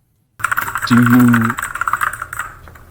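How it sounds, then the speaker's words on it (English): Rapid, loud clicking of someone typing on a computer keyboard during a voice chat, the keystrokes rattling steadily under a man's speech and briefly competing with a low hum. "I don't know who's typing, why there's so much typing."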